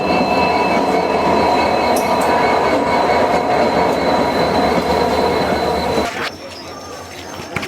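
The Uttaranchal Sampark Kranti Express pulls into an Indian railway platform, loud and close, with rumbling wagons and screeching wheels that cut off sharply near the end, leaving a quieter hum and a high tone.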